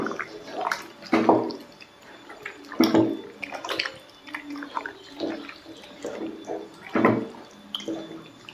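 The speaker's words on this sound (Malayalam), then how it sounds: "ഇനി നമുക്ക് കൈ കൊണ്ട് ഇതെല്ലാം കൂടി നന്നായിട്ടൊന്ന് മിക്സ് ചെയ്ത് യോജിപ്പിക്കാം." Bare hands mix beef with papaya paste and yogurt for biryani marinade, producing soft, wet squelches and slaps in an irregular rhythm, close and fairly quiet.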